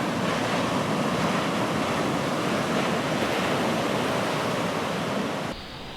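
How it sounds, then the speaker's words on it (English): Surf breaking at the Belham River mouth on Montserrat, a continuous loud roar of waves with wind, steady from start to finish and dropping slightly at the very end. "Even on a calm day, the waves at Belham make themselves heard."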